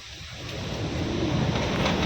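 Steady rain falls outdoors, building to a dense, continuous wash with a low rumble of thunder underneath. No voices are heard.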